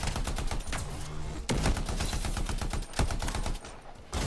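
Rapid gunfire from the sci-fi shooter Anthem, dense overlapping bursts and impacts coming from all around, with sharp louder cracks near 1.5 and 3 seconds over a busy game soundscape.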